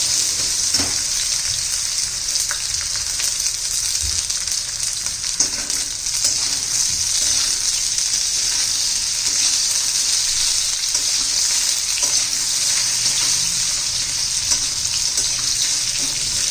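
Potatoes shallow frying in oil in a pan, a loud, steady, dense sizzle held throughout with occasional soft stirring knocks.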